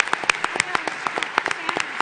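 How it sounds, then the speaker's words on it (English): Brief, sparse clapping from a business club luncheon audience, distinct close claps in an uneven rhythm with a voice mixed in. "A round of applause for Terence Corcoran."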